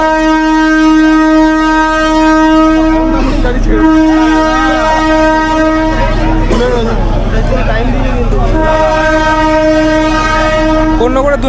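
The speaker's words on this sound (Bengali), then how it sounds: "কর্ণগর স্টেশনে এখন দু নম্বর প্ল্যাটফর্মে এলো শ্রীরামপুর লোকাল" A Srirampur local train pulling into platform two at Konnagar station, its long, loud, steady horn blaring over a heavy rumble of wheels and carriages, with brief voices near the middle.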